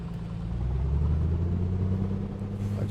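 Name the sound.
A2A Comanche aircraft engine running in flight simulator game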